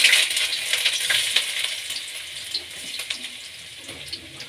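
Ginger and garlic fry in cooking oil in a pan for Schezwan veg fried rice, making a bright, hissing sizzle with scattered crackles that starts strong and slowly fades. No voices are heard.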